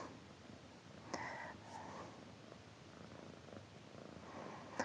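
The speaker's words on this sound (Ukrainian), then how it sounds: "Можливо, ви чуєте, в мене тут кіт мурчить." Soft, close purring rumbles continuously with faint breathy sniffs, quiet and steady with no talking.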